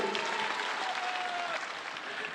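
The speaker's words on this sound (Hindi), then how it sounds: "आप इनके लिए एक बार जोर से ताली बजाइए" A crowd at a Janata Party political gathering claps for the party's leaders, a fairly faint, distant and continuous spatter of applause with a faint tonal murmur mixed in.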